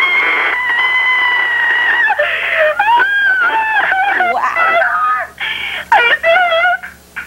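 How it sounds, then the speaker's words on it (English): A woman screams and squeals with joy on hearing she is going to L.A. in a pop group competition, the high, loud wailing cries running almost continuously before breaking into shorter bursts. "I really didn't think I was going to scream"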